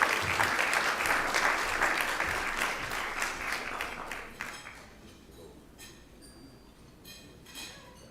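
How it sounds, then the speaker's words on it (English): Applause at the 2024 NNPA National Legacy Awards Gala in Baltimore, where a crowd claps loudly and densely at first, then thins to scattered claps, with a few glassy clinks and faint voices near the end. "Let's give the Afro and the Baltimore Times a round of applause as they come."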